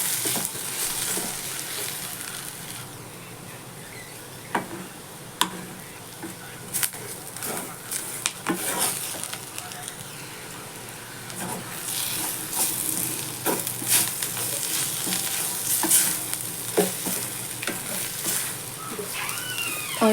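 Brinjal and masala sizzle and fry in a pan, with scattered scraping stirs and clinks throughout and faint birds cooing in the background.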